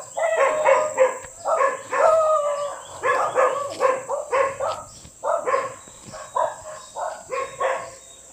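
A dog at a rural family house barks and howls in a rapid, repeated series of close, loud yelping calls over a faint steady insect-like hum.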